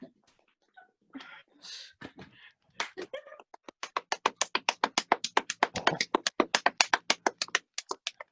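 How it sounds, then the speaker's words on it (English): Performers in a staged reading of a play clap together in a steady, evenly spaced rhythm of sharp, close claps, following a few seconds of scattered voices and movement. "They all keep clapping"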